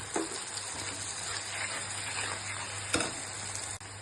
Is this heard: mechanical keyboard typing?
no